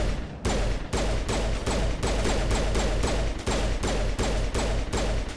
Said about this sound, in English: What if I use my pistol?